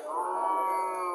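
A single clear moo from a small native Bangladeshi cow, steady and drawn out, heard close with little else around it.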